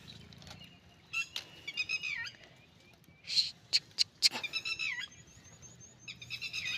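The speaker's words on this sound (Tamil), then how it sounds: "இந்த குருவிகளின் சத்தம்." Sparrows chirp in quick bursts over palm tree farmland, with bright twittering calls and a few sharp, close tweets standing out against a quiet rural background.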